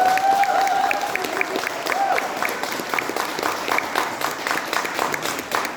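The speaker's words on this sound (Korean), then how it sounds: "강준원 의원님께 박수 한번 보내주시죠" An audience at a political lecture in Sejong breaks into sustained applause for a lawmaker, a loud continuous patter of many hands with a voice briefly audible at the start.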